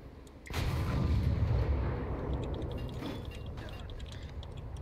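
Heavy naval guns from a quad 105 mount fire at a ship in War Thunder, a loud deep boom followed by a sustained rumbling roar with faint mechanical clatter.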